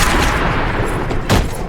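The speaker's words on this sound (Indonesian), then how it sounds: "Tanpa pikir panjang, Flynn menembak mati sheriff tersebut." A single close, loud gunshot fired at a sheriff in a motel during a film scene, one sharp blast standing out near the end over a dense, noisy background.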